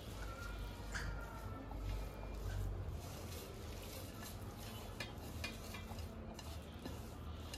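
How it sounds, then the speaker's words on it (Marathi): Grated potato being mixed by hand or spoon into a soaked sabudana vada mixture in a bowl, a soft continuous wet squishing and stirring, close and fairly quiet with no talking. "आणि आपण सगळं मिश्रण एकजीव करून घेतो आहोत."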